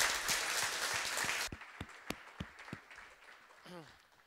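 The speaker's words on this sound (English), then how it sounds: "Let's give another round of applause for Amit." A roomful of attendees at an Ember.js New York tech meetup applauds a presenter. Dense clapping ends abruptly, a few scattered late claps follow, and a voice speaks near the end.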